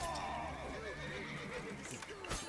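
A horse in The Witcher 3 video game gives a clear, loud descending whinny, followed by a few hoof clops amid game sounds, with no talk over it.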